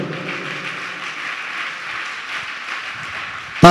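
A church congregation at Hosanna Mandir, Bhimavaram, claps together in a steady, dense patter that holds throughout. A sudden loud burst of sound cuts in at the very end.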